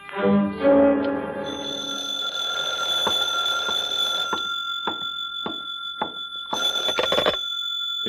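A telephone ringing in an old-time radio detective drama, The Falcon: an opening musical sting fades into a steady electric ring with repeated bursts, the last ring louder, no speech over it.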